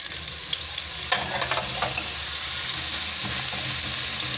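Small cubes of washed, drained potato frying in hot oil in a pan, a steady close sizzle with occasional crackles and pops throughout.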